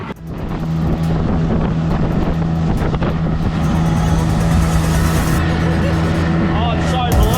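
Boat engine droning steadily while running on the water off the Ningaloo Reef near Exmouth, with heavy wind buffeting the microphone and a voice speaking over it.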